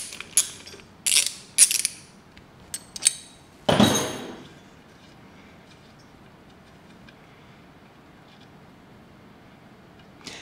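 A ratchet clicks in several short bursts while alternator bolts are removed from the engine of a 1972 Alfa Romeo GTV. A louder rattling clank follows, then quiet.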